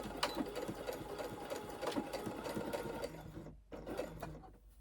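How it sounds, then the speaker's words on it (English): A sewing machine runs back over a seam on a lip balm holder, its steady close mechanical whir and rapid needle chatter continuing for several seconds before briefly dropping out and resuming more quietly. "I'm just going to go over that stitch one more time just to secure it"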